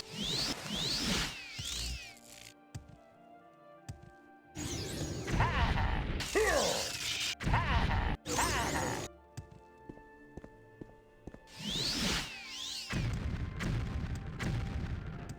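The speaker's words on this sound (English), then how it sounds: "take a moment to contemplate this gauntlet of booby traps" Gauntlet of booby traps in Mournhold, a city in the Morrowind video game: mechanical clanks, ratcheting and heavy thuds come in loud bursts separated by quieter gaps across the stretch.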